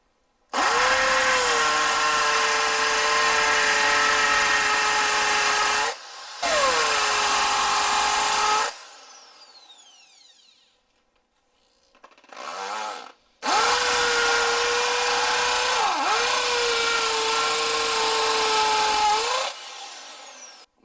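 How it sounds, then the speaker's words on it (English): An inexpensive hammer drill boring a hole into brick, a loud, steady, high-pitched whine with a gritty rattle, running in long close bursts separated by short pauses and a brief quieter stretch. "This drill right here will hammer as it's turning, so it'll put a hole in the brick."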